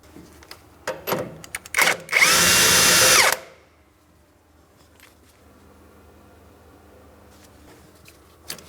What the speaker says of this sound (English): Continue on with a 22mm to remove that jam nut.